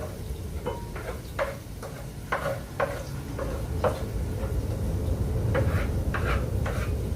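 Onions, ginger and garlic frying in a pan give a steady low sizzle, with repeated scraping and tapping of a spoon against the pan at an uneven rhythm, close and moderately quiet.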